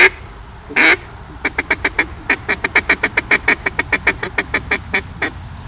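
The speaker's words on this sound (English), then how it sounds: "I'm going to have Brandon blow his duck call" A hunter's duck call blown during retriever training, first a few single quacks, then a long rapid series of sharp, evenly paced quacks, loud and close with no talk.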